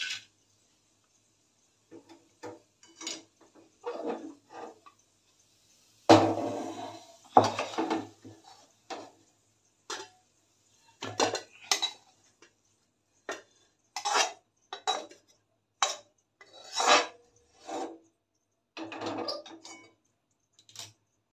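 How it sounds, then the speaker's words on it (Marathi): Ghee-roasted wheat-flour barfi dough gets pressed into a ghee-greased tray with a bowl, producing a series of intermittent metallic knocks, scrapes and clinks separated by short quiet gaps. "आता ह्यामध्ये मी तर बर्फीचा गोळा थापून घेते"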